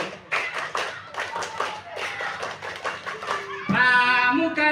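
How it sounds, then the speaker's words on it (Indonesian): During cheer practice, children do a fast scout rhythmic clap in a patterned sequence of crisp claps, with chanting voices mixed in, and it ends in a sustained shout. "Satu kali tepuk pramuka"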